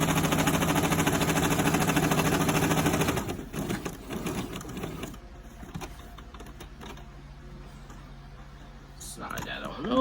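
A Brother 2600i sewing machine stitching shirring fabric, a fast, close mechanical whir for about three seconds, then slower start-stop stitching bursts at lower level as a person talks.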